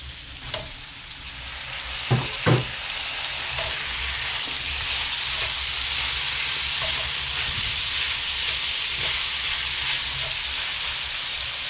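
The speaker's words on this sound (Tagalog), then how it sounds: "Isulutan natin yung ating kamatis." Tomatoes sizzle and fry steadily in a hot pan for a pinakbet vegetable stew, a constant close hiss with a couple of brief utensil knocks near the start.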